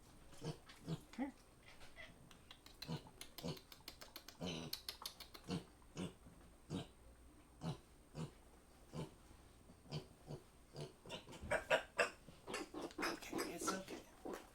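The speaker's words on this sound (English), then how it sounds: "He is a Juliana Pig" A Juliana pig grunts and snuffles in a series of short, close bursts through a moderately quiet indoor space, with a denser run of louder snorts toward the end.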